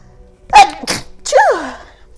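A single loud sneeze with a sharp intake and burst, followed by a short trailing vocal sound, close to the listener.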